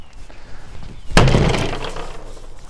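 A hot dog frozen solid in liquid nitrogen shatters in one sudden loud crack like breaking glass, followed by a brief scattering rattle that fades out.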